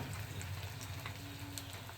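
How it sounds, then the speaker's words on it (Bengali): Egg curry with a little added water simmers in a pan, giving a steady, dense bubbling sizzle close up with no talk. "সামান্য পরিমাণে জল দিয়ে আমি কিছুক্ষণ ফুটিয়ে নেবো"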